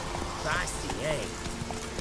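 Horse hooves clip-clop at a gallop in The Witcher 3, a steady rhythmic patter held under game music and a voice talking over it.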